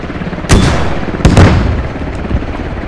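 A helicopter in a military shooter game chops loudly while sharp gunshots crack through it, two or three heavy shots in quick succession followed by a fainter one, with no talking.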